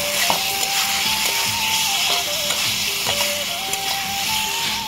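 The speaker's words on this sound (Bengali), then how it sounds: "এইভাবে খুব ভালো করে কষে নিতে হবে আলুর সাথে টমেটোটাকে" Potatoes and tomatoes fry with spices and a little sugar in a pan for a Bengali rohu fish curry, giving a steady close sizzle and hiss beneath a looping melodic background tune.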